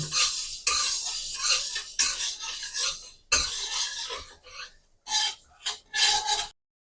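Moong dal being dry-roasted and stirred in a kadai, heard as loud, gritty rasping scrapes in bursts with brief pauses between strokes.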